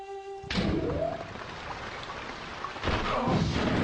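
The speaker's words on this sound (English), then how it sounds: "So, you start off in this rainy place" Steady rain falls in a futuristic shooter level of Daikatana, a dense hiss with swelling bursts, alone with no voices.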